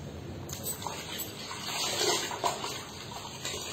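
Water sloshes and splashes gently in a bath, a soft continuous wash with a few louder splashes, close by with a quiet voice in the background.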